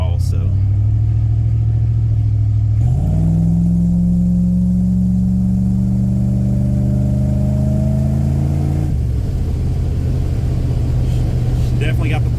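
Avanti car on its first drive, engine rising in a strong steady acceleration with a clear gear change near the middle, loud and close from inside the cabin.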